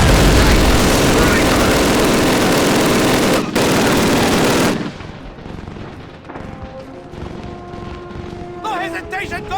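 Soldiers' dense gunfire and explosions form a loud, continuous barrage in the World War II video game Call of Duty 1, then drop abruptly to quieter battle ambience with a few scattered shots and distant sounds.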